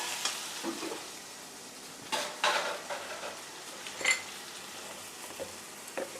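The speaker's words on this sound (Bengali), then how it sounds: "পেঁয়াজটা ভাজা হয়ে আসছে এখন দিয়ে দিলাম আদা রসুন বাটা" Faint sizzling of onion frying with ginger-garlic paste in a pan, broken by a few soft scrapes and clinks of stirring.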